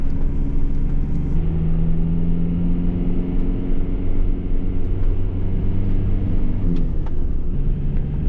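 A van engine labours up a steep hill, a steady deep droning rumble with a strained, sustained tone that holds loud and close throughout without pause.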